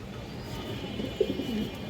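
Pigeons at a market stall, green-necked females among them, give a soft low coo mid-way through, faint against steady background noise with no nearby talk.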